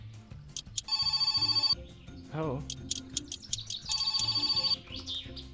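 A telephone rings in a video game set in rural Finland, with bursts of an electronic trill repeating near and loud, broken up by someone talking over them and by other game noises.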